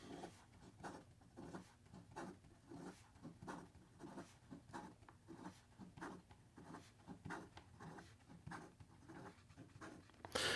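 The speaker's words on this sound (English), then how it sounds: "In regard to some fast writing," Fast writing with a Leonardo Momento Zero Grande fountain pen on paper, a quick rhythmic scratching of nib strokes in short repeated bursts, close and fairly quiet, with no talking.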